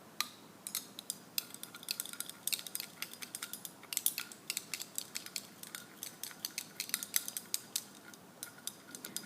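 A glass stir rod stirring silver nitrate solution in a test tube, giving a steady run of small, quick clinks and taps close by, with no talk.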